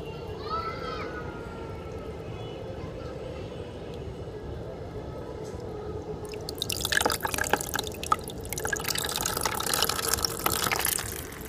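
A mini 6V brushless DC water pump running, first as a low steady hum with faint dripping, then water splashing and gushing loudly in the second half, close by, with someone talking over it.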